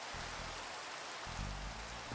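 Steady rain in a Minecraft-style block game world near a mountainside, a soft continuous broadband hiss with no break and no voices over it.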